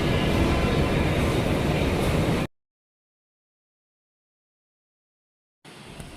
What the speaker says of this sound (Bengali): এই ট্রেনে উঠলাম এটা ফার্স্ট ক্লাস কামরা